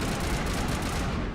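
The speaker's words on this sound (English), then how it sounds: "Alright, so shotguns do lots of damage." Shotgun fire in the video game Mass Effect, a dense, continuous roar of gunfire with heavy low-end rumble, loud and steady for the whole moment with no clear gaps between blasts.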